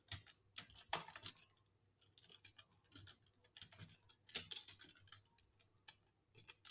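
Keys clatter on a computer keyboard during coding, in quiet, irregular bursts of close clicks with brief pauses, and nobody speaks.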